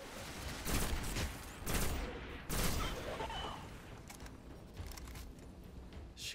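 Rifle gunfire in Destiny, several loud bursts of shots spaced roughly a second apart, then lighter scattered fire and faint ambient rumble.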